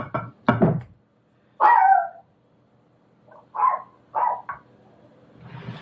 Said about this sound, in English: This is the time of the evening that little dog loves to go out and bark with the birds